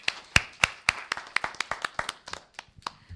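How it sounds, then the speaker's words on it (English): A conference audience claps in a short, sparse round of applause, with a few distinct hand claps at an uneven rhythm that thins out over about three seconds, fairly quiet and without voices. "Let's give them a round of applause."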